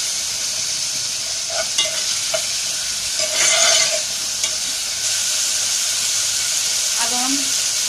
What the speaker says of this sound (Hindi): दो से तीन मिनट इसकी हमने इस तरह फ्राई करनी है।